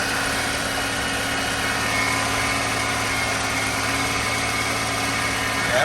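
A kei van engine idling just after starting, a steady droning hum with constant low tones, loud and close for the whole stretch without noticeable change in speed.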